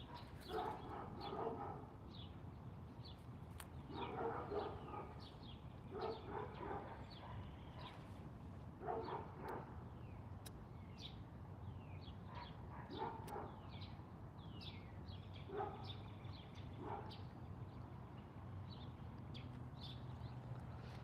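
Several dogs bark in short scattered bursts at a distance, with yips and whimpers between them, over a steady low background hum.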